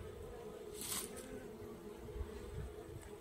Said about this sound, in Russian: пчелки наши сейчас они будут вентилировать улей